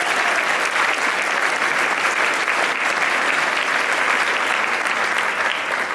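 An audience at an Outstanding Youth in Philanthropy award ceremony applauds steadily and loudly, a dense wash of clapping sustained without a break throughout.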